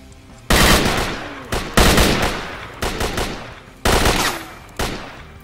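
An AK rifle fires in the shooter game S.T.A.L.K.E.R. Call of Pripyat, about six loud, sharp shots or short bursts spaced roughly a second apart, each decaying quickly.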